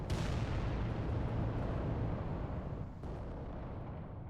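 A volcano cannon firing in an Adeptus Titanicus tabletop game, heard as a loud opening boom followed by a long, dense rumble that slowly fades, with a second dull thud near the end.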